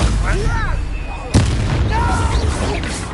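Spells cast in Hogwarts Legacy, whooshing and crackling magic bursts with one sharp booming impact midway, loud and close, mixed with a voice shouting over the combat.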